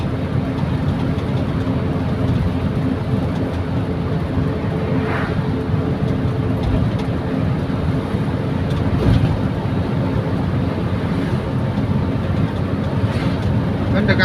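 Carbureted Toyota Kijang Kapsul engine holding about 2750 RPM at 70 km/h, a continuous low droning hum steady throughout, mixed with road and wind rush inside the cabin.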